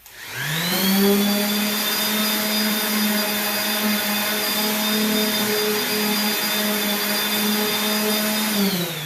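A power sander smooths the edges of an epoxy countertop, giving a loud, steady motor whine that spins up, holds constant for several seconds, then winds down at the end.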